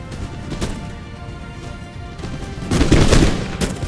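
Musket volley fire in Empire Total War rolls in as a dense crackle of overlapping shots, swelling louder near the end.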